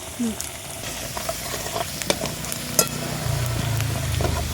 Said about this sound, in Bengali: মা ফোড়ন দিয়ে দিচ্ছে হ্যাঁ, শুকনো লঙ্কা তেজপাতা আর জিরে